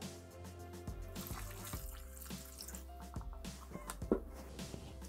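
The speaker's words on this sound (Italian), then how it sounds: "Aggiungiamo l'acqua" Water pours into a Thermomix making risotto with peas and speck, a quiet splashing and trickling with some drips and faint clinks, steady and close.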